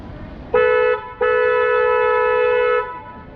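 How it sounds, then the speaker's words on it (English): A tour boat's foghorn on the San Antonio River Walk sounds twice: a short toot followed by a long sustained tone, loud, close and dominant. "So we slow down, hit the foghorn. So here comes my horn"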